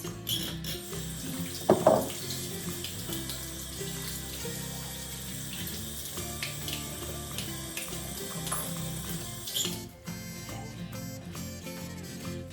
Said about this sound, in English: So first I am going to wash my hands.